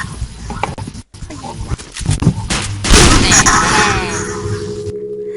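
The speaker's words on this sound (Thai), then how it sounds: "เป็นช่วงในการเล่นปืนลูกซองครับ ซึ่งคุณเจมกับคุณโฟมนะครับเขาจะมาแนะนำวิธีใช้" Shotgun fire in the video game Point Blank, loud blasts and a dense burst of gunfire building to a sustained roar, with scattered booms and game effects.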